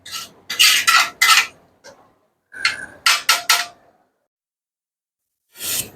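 Rice and water stirred in a cooking pot, giving bursts of scraping, rasping strokes in quick clusters with short pauses between, close and fairly loud, no talking.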